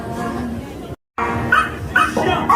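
A dog barking at a games quiz during a convention, several sharp barks and yips close by, mixed with crowd noise and a short drop to silence partway through.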